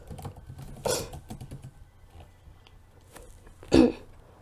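Sparse keystrokes on a computer keyboard while typing in a search for tablet mode, a quick cluster near the start and another soft burst near the end, close and fairly quiet with a low background hum and no talking.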